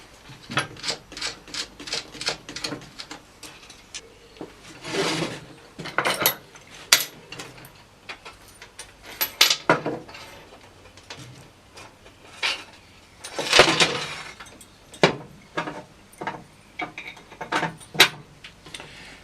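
Metal washers and nuts are fitted by hand onto T-bar sash clamps, producing scattered close clinks, taps and scrapes at an irregular pace, with brief louder clusters between quieter pauses.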